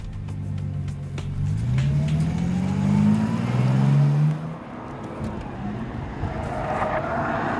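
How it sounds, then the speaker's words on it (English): A Bentley Continental Supersports laps the Nürburgring. Its engine note climbs through rising revs, then drops off and settles into a steady drive with wind and road noise. No one speaks. "driving this new extreme Bentley around this phenomenal track"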